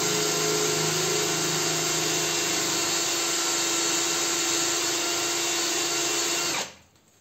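A power drill bores a pilot hole into the steel casing of a large air conditioner compressor, giving a loud, steady, close grinding whine that holds for over six seconds before stopping abruptly, with no talking.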